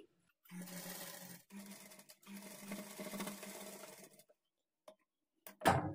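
A sewing machine runs in two long stitching bursts along the folded-in edge of blouse cloth, steady and close, with brief pauses between runs and a sharp handling clatter near the end.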